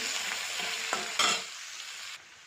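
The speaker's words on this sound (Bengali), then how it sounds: "এবারে একটা বড় পেঁয়াজ কেটে রেখেছিলাম দিয়ে দিলাম" A large chopped onion hits a hot pan and sizzles loudly, broken by brief scraping stir sounds, then settles into a softer, steady fry before quieting near the end.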